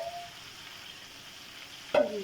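Pieces of chicken fry in hot oil, a faint steady sizzle with a brief louder crackle near the end.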